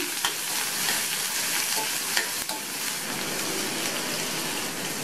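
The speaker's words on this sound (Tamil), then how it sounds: "கட் பண்ண ஒரு மீடியம் சைஸ் வெங்காயத்தையும் சேர்த்து ஒரு அரை நிமிஷத்துக்கு வதக்கினா போதும்" Chopped medium onion and dried red chillies sizzle and fry in hot oil in a pan for a Tamil poriyal, a steady crackling hiss with a few soft stirring knocks, close and fairly quiet, with no talking.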